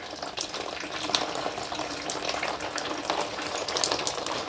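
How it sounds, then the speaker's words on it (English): Engine coolant pours from an opened drain on the engine block into a pan, a steady, close splashing stream of liquid that runs continuously without talk. "Open this up. And drain the coolant from the block."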